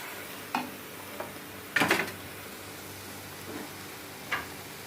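Masala and oil being stirred together in a pan for a Tamil village-style fish curry, with soft steady sizzling under a few scattered scrapes and taps of the spoon, one louder clatter near the middle.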